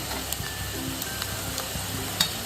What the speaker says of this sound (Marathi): हे सगळं मिक्स करून घेते याच्यातलं लाल तिखट पण चांगलं झालं पाहिजे